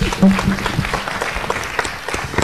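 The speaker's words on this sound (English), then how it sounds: "Clap for yourselves." A crowd at a public board meeting claps steadily for a few seconds, a dense wash of handclaps with a brief voice or tone near the start.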